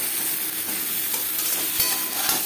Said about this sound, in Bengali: দু 3 মিনিট আলুর সাথে পটল ভেজে নেওয়ার পর